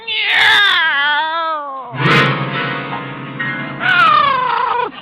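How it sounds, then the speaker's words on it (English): Cat meowing as a sound effect in a classic radio sitcom, several long drawn-out wailing meows in sequence, loud and close, with no talk over them. "It's a cat, Miss Brooks."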